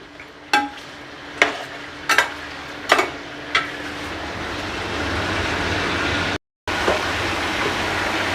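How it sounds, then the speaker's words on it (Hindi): Beef for nihari frying in a pot, with a steady sizzle throughout, broken by five distinct scrapes of stirring in the first few seconds and a brief silent cut near the end. "इसको मैं खूब अच्छी तरह भूनूंगा जब तक बिल्कुल बीफ अच्छी तरह ब्राउन ना हो जाए"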